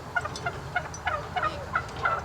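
Several large farm turkeys gobble and cluck in a rapid, bubbling chorus, close by and fairly loud, with repeated burbling calls overlapping.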